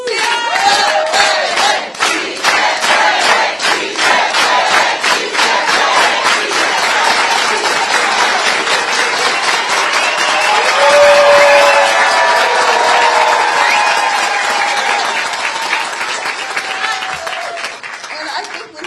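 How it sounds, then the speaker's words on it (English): A large outdoor political rally crowd in San Francisco chants a rhythmic slogan in unison, punctuated by loud, steady organized hand claps, with cheering swelling and sustained throughout at close, dense volume. "let's all do it with an organized hand clap"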